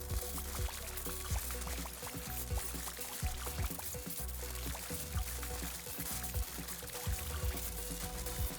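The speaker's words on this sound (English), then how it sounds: "what if I just suck some of this water out of here?" Water is drawn out by a pump in the Minecraft modpack Atomcraft, giving a steady, dense liquid pouring and gurgling wash with small repeated splashy ticks throughout, fairly faint and without talk.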